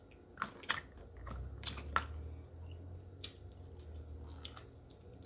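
Close, moist bites and soft chewing of sushi at a mukbang meal, several sharp crunchy clicks early on, then quieter squishy mastication without talking.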